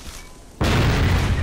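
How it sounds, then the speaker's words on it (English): A grenade detonates in the shooter Vivisector: Beast Within, a sudden loud boom that cuts in after a quiet stretch and rolls on as a dense, sustained blast with no talk over it. "we toss grenades and..."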